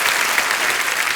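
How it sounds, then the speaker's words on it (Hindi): A studio audience at a TV comedy show, The Kapil Sharma Show, breaks into loud, dense applause, a steady burst of many hands clapping close by with no voices over it. "सर क्या बात है, जोरदार तालियां सुनिधि पाजी के लिए।"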